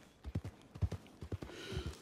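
Horse hooves in Red Dead Redemption 2 clip-clop in a steady walking rhythm, close and clear, with faint game ambience underneath.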